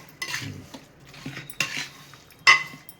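Raw chicken for biryani is mixed by hand with oil, ginger-garlic paste and salt in a vessel, heard as a few quiet squelches and sharper scraping knocks against the pot at an uneven pace.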